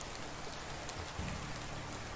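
Steady rain in the medieval survival game Medieval Dynasty, a constant hiss of drops falling on surfaces, moderately quiet and even throughout with no talking.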